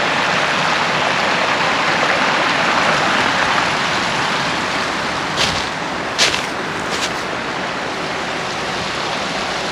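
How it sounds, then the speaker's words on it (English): A small creek waterfall formed by fallen trees pours steadily in Yankee Run Nature Preserve, a wooded preserve, a continuous close rushing splash with a few brief higher bird chirps near the middle. "Trees fall over the creek and they create a little waterfall."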